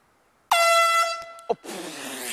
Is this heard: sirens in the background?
no